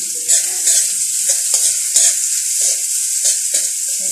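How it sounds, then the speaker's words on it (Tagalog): Garlic and onion sautéing in a pan, a strong bright sizzle with intermittent scraping and stirring knocks of a spatula, close and continuous, no voices. "Hintayin po natin na mag-golden brown yung bawang po natin."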